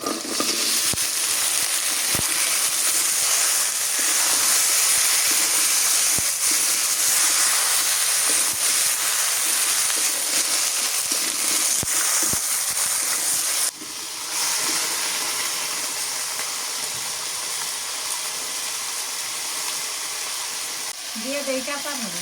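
Vegetables hissing and sizzling in hot oil in a pan, a continuous loud frying hiss with a few sharp clicks and a sudden drop in intensity partway through.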